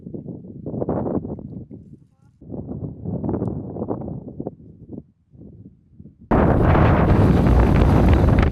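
Strong gusts on a hillside trail on the Isle of Skye's Quiraing buffet the microphone in uneven bursts with brief lulls, ending in a sustained, roaring blast of wind.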